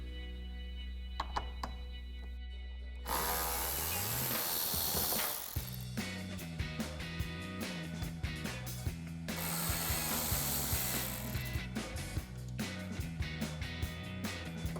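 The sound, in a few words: ratchet removing 10mm headlight bolts on a RAM 1500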